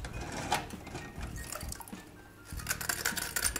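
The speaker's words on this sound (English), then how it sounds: "shake some of the water off them" Water shaken off clock parts taken from warm water after ultrasonic cleaning: close, irregular splashing and dripping with light clinks of small metal pieces, fading briefly before resuming.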